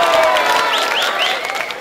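An election rally audience at a BJP campaign event in Ahmedabad, Gujarat, claps and cheers in a loud, continuous burst of applause, with a few whistles rising above the crowd.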